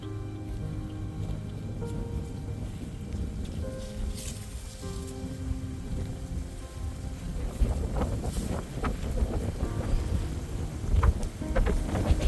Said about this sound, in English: Oh, super windy.